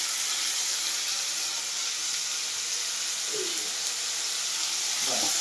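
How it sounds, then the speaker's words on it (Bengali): Khesari lentil fritters fry in hot oil with a steady, close, hissing sizzle that runs unbroken throughout, and no talking. "পাঁচটা করে আমি ভাজছি।"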